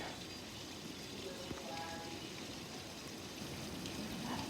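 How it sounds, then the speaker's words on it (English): Heavy rain pouring down on and around a house during a flash flood warning, a dense, even hiss of falling water that holds steady throughout with no talking. "Super heavy. The rain."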